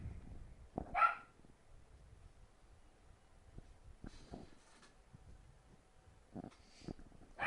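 A few sharp dog barks ring out separately, spaced apart over quiet background, fairly faint and distant.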